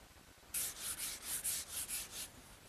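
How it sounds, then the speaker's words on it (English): Rhythmic hand sanding of wood between finish coats with fine 320-grit wet/dry sandpaper, about ten quick back-and-forth strokes, close and steady, with no talking. "this 320 grit wet dry sandpaper is the perfect choice for sanding between coats"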